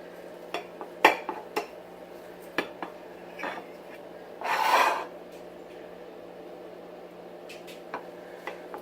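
A broccoli cheddar frittata being cut in a cast iron skillet, with scattered metallic scrapes and clinks from the utensil and one longer rasping drag in the middle, close and fairly clear in a quiet kitchen.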